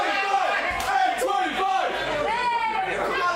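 Wrestling arena crowd shouting and jeering during a street-brawl style match, a loud mass of overlapping voices with sharp cries and a few slap-like impacts, continuous throughout.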